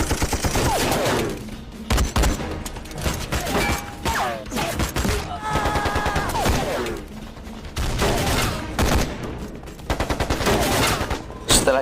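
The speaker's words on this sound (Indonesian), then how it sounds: "Perang tembak pun tidak terhindarkan." Gunfire in a gangster film shootout, dense volleys of sharp shots and rapid bursts crackling across the scene with short pauses between flurries, loud and close, mixed with brief shouts and effects.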